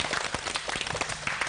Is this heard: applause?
yes